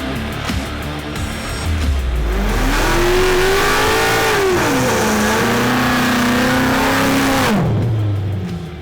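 A 2018 Steeda Silver Bullet Mustang, an all-motor car, revs hard in one long sustained pull, its engine note climbing and holding at a loud, close roar for several seconds before dropping off sharply.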